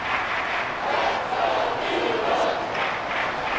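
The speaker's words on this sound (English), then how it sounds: "This crowd turning up the decibel level." A stadium crowd roars steadily in Madden NFL 24 during a football game, a dense, loud, continuous wall of cheering that swells slightly and never drops away.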